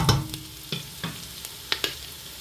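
Onions and curry leaves sautéing in a pan for mutton curry: a soft background sizzle broken by several sharp spatula scrapes and taps at irregular intervals, close and unvoiced.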